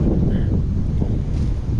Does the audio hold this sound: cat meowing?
no